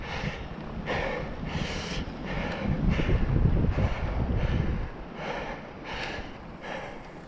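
Wind gusting over the microphone of a cyclist riding up a very steep road, at times above 20 percent gradient, on a sunny day, a steady loud rush that swells in the middle and then eases into lighter buffeting.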